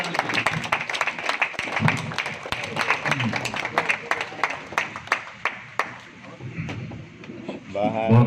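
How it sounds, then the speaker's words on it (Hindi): A standing crowd at a Lok Vikas Parishad gathering in Aurangabad claps for Bashir. The separate, sharp hand claps come at a brisk, uneven pace, with some voices mixed in, then fade. "बशीर भाई के लिए खड़े होकर तालियां बजाइए"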